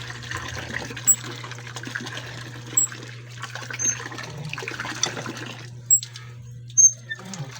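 Water gushes and splashes as a hand pump is worked, the stream running fairly steadily with a constant low hum beneath and intermittent squeaks and knocks from the pump handle.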